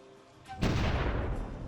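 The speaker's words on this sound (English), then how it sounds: "they have artillery over there" Artillery fire in the strategy game Supreme Ruler Ultimate, a single loud boom erupting after a quiet lead-in of faint ambient tones, then a broad rumbling tail that lingers and slowly fades, with no talking.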